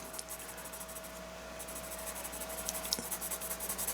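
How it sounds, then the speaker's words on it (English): A 3B graphite pencil sketches on paper in steady, faint scratching strokes that grow more rhythmic toward the end, close up and with no talk. "using a 3B pencil"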